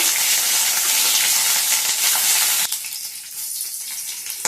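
Green chilies fry in hot oil in a pan, giving a loud, steady sizzle that drops to a softer, crackling hiss partway through.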